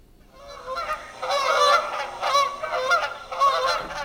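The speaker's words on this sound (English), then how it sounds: "birds that fly in a pattern with the V line" Several migrating geese flying in V formation honk repeatedly in loud, overlapping bursts, a chorus of nasal calls that rises and falls with no talking.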